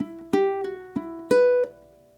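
Ukulele plucking a short phrase of Scarborough Fair, a handful of clear single notes ringing close and alone, finishing with a hammer-on on the first string that slides smoothly into the final note.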